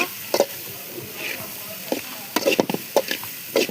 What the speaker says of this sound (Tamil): நல்லா அதையும் வதக்கிக்கோங்க. அப்புறமா பெப்பர் போட்டுக்கோங்க.